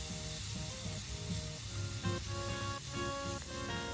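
Onion, ginger, garlic and tomato sautéing in a pan over medium flame, a soft, even sizzle running throughout beneath a steady tonal hum, faint and close.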